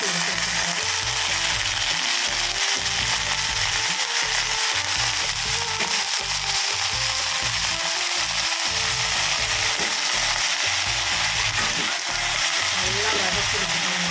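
Coriander leaves sautéing in a pan, a steady loud sizzle with rapid clicking, scraping stirs running throughout, no voices.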